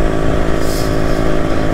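A Yamaha RX motorcycle riding along, its engine giving a steady, loud, unbroken drone at close range with no voices.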